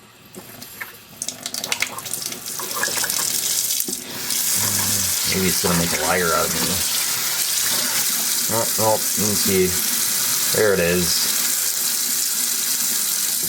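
Water from a leaky Moen faucet runs in a steady hiss that starts a few seconds in and keeps on, while a person talks over it in short bursts.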